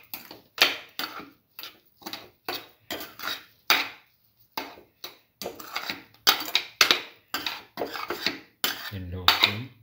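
Utensil scraping and clinking against a pan while a sweet coconut milk and sugar mixture is stirred continuously, a steady series of short, fairly close metallic strokes with brief gaps between them.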